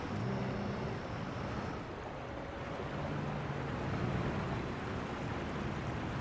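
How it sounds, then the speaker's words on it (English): Steady rushing water from a waterfall in the fantasy strategy game Myth II: Chimera, a continuous broadband wash holding level throughout with no pauses. "There's a waterfall there."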